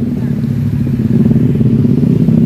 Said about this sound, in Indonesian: Nah ini mesinnya sudah dihidupkan.